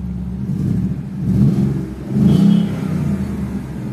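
A Ford Mustang GT V8 revs twice in close succession, the exhaust note rising and falling in strong low surges over a steady idle, loud and near with no talk.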